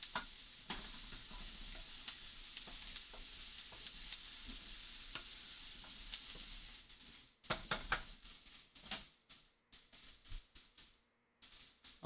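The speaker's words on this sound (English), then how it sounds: "You can see the onions starting to brown a little bit here." Onions fry in a pan with a soft, steady sizzle, broken by light stirring scrapes and clicks that grow sparser toward the end.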